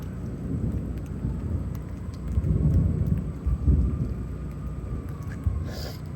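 Rain falls steadily during a lightning storm in Houston, Texas, with low rolling thunder swelling in the middle and a faint crackle near the end, all heard without any voices.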